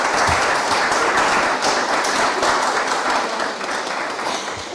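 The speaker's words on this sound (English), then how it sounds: "Let's give a round of applause for these two incredible groups who do so much important work." An audience applauds two veterans' support groups at a Canadian government event, a dense, sustained round of clapping from a large crowd that holds steady and eases off slightly toward the end.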